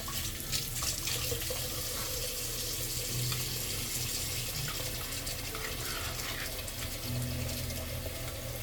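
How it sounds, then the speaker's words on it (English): Running hot tap water pours steadily and close by, a continuous broadband splash with small shifts as a spatula is held under the stream. "I'm gonna wet my spatula with some hot water."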